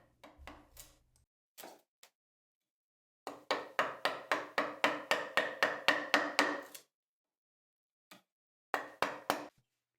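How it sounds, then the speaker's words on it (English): Hand tools cutting a notch into the wooden arm of a cross-cut frame saw: a quick run of evenly spaced sharp knocks, like mallet-driven chisel strikes, then a few scattered taps, close, with silent gaps between bursts. "Here, Tom is contouring the front face notch"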